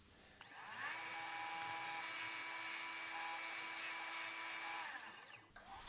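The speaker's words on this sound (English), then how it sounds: "we're going to turn up the lathe to its higher sort of speed" A wood lathe turning a wooden smartphone filming rig spins up to a high, steady whine at its higher speed, holding its pitch for several seconds before winding down.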